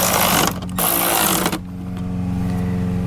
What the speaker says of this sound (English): Now we can go ahead and secure those bolts.